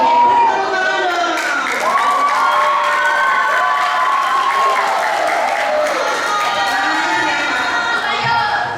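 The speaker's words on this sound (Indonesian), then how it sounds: "Oke, tepuk tangan dong." Lower secondary students applaud and cheer together in a school classroom, a dense, steady wash of clapping and young voices that carries the whole stretch at loud level.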